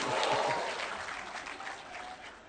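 Faint, steady audience clapping at a morning gathering in Kiambu, a soft patter that fades slightly over a couple of seconds.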